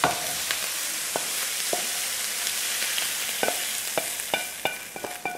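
Lean bacon frying in a pan gives a steady, close hiss and crackle, with scattered sharp pops and scrapes of a utensil stirring, growing busier toward the end; no talking.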